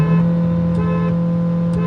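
A Hyundai Verna and a Mahindra XUV300 TurboSport at a drag race, a steady loud engine drone holding an even pitch with no talk.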